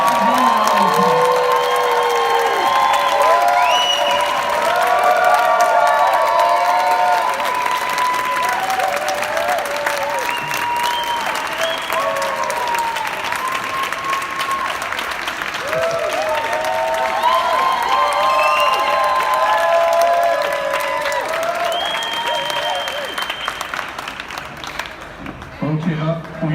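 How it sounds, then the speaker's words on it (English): A startup-week event crowd in San Diego gives sustained applause and cheering, with whoops and shouts over continuous clapping that lasts the whole stretch, with voices mixed throughout. "I think we owe these guys a huge round of applause for what they've"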